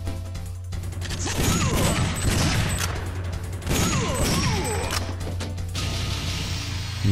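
Gunfire and mechanical clatter from the arcade shooter Time Crisis come in dense bursts over a steady low hum, loud and continuous through the stretch, with no voice heard.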